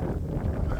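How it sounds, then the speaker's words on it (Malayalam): Strong wind buffets the microphone at a hilltop viewpoint in Rajathottam, Kollam, a steady low roaring rumble filling the whole moment with no clear voices. "കാറ്റെന്നെല്ലാം പറഞ്ഞ അന്യായ കാറ്റ്."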